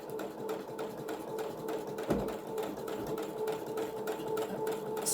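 A sewing machine stitches through a thick fabric journal cover with an Asian-inspired design, a fast, continuous mechanical chatter with one sharp knock partway through, close and steady throughout.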